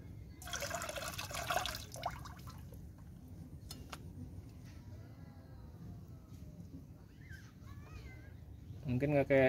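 Dirty black coolant is shaken and sloshed inside a motorcycle radiator during a coolant change, a short burst of close watery splashing and trickling, with people talking over it.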